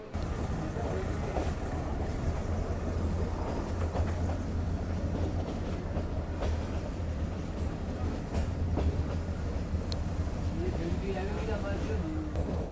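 Metre gauge train coach running through a ghat section in Rajasthan, heard from inside as a steady rumble with intermittent rail clatter and squeals, continuous throughout at moderate loudness, with faint voices now and then.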